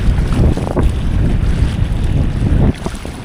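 Strong waves surge at the water's edge while heavy wind roars across the microphone in a loud, continuous rush, with no voices.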